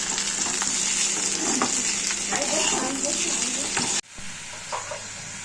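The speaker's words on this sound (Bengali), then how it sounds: "এই কেটে টমেটো আর আলু আমি আগে ভেজে নিচ্ছি।" Potato and tomato pieces fry in a pan for a Bengali egg curry, giving a steady, close sizzle with crackly bursts that suddenly drops to a softer frying hiss near the end.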